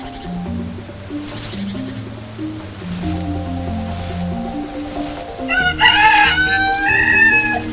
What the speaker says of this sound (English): I'm a rooster.